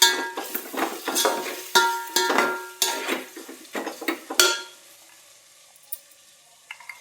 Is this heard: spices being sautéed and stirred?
yes